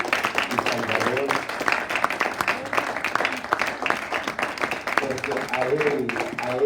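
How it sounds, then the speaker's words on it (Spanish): A church congregation claps in sustained, dense applause at a service, with voices rising over the clapping throughout. "Quiero pedirles que me acompañen a darle un aplauso a nuestro Señor"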